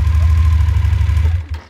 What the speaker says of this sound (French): j'ai juste allumé le moteur pour vous faire plaisir